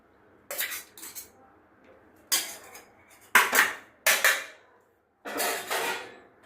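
Metal cutlery and dishes clatter and scrape in five separate bursts as rice is served onto a lunch plate, close and fairly loud, with quiet pauses between the clinks.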